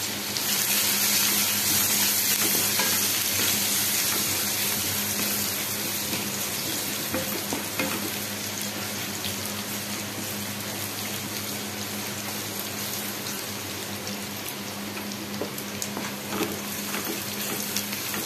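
Garlic and Kashmiri chili fry in hot mustard oil with panch phoron for a spice tempering of Kulthi dal, a steady close sizzle and crackle lasting throughout with no talking.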